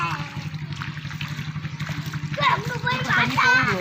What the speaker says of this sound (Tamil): தண்ணி போகுது, அழகா போகுது.